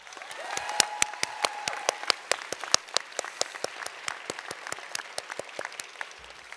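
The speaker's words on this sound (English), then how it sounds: "please give yourself and those who you feel grateful to a round of applause" Applause from a small group at a commencement ceremony: a steady run of sharp, distinct claps lasting several seconds, with no voices.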